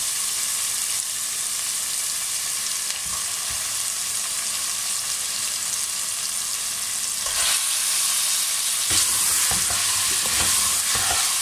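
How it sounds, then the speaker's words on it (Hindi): Mutton sizzles in ghee with onion, ginger and garlic in a pan. A steady, close frying hiss runs throughout, with a few louder scraping stirs near the end and no talking. "अब मैं इसके अंदर ये मटन डालूँगी।"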